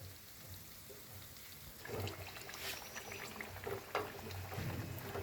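Mawa kachori frying in hot ghee, a soft steady crackle and sizzle that picks up after a quiet start, with a few louder pops, close by and with no talking.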